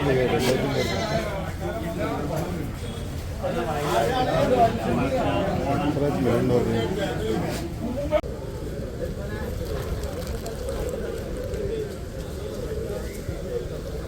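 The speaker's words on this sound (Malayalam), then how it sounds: "ഈ ഒരു ഭാഗത്തായിട്ട് ഒരുപാട് ആടുകൾ ഇന്ന് വിൽപ്പനക്കുണ്ട്" Goats bleat repeatedly among a noisy crowd at a livestock market, with people talking close by throughout.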